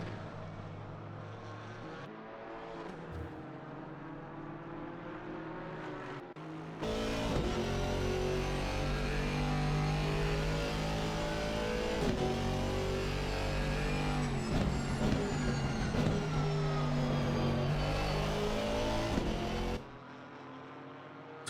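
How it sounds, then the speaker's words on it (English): Porsche and Mercedes race cars roar into turn 7 at Watkins Glen in a racing video game, a continuous loud engine drone that swells sharply partway through and stays intense, with pitch rising and falling through gear changes. "Porsche versus Mercedes in towards turn 7 we go"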